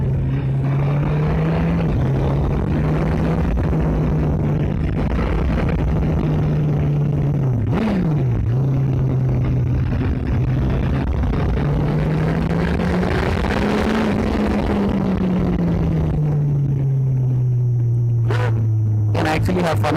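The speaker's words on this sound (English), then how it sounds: "The exhaust is not so loud, but man, the bass is insane." A 2016 Suzuki Hayabusa GSX1300R ABS fitted with a Scorpion exhaust is ridden and accelerated. Its loud, bassy engine tone rises and falls through the gears in a steady drone, with brief dips between pulls.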